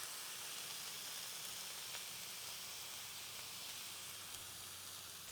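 New York strip steaks sizzling on a griddle, a soft, steady hiss of frying meat with faint occasional pops, constant throughout and fairly quiet.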